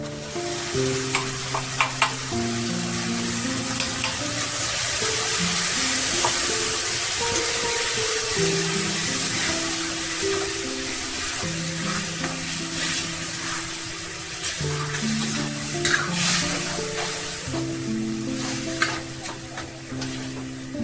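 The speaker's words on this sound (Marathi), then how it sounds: "छान परतून घेऊया मसाला आपण चांगला परतून घेतलाय" Ground masala paste sautéing in a pan with onion, sizzling steadily and close while a spoon stirs and scrapes through it, with soft background music playing underneath.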